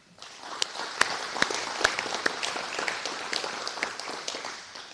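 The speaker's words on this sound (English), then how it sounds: "Please join me in giving them an applaud for that." Applause from a gathering at an annual meeting, honoring employees, starting from near silence and building into moderate, uneven clapping with a few sharp close claps standing out.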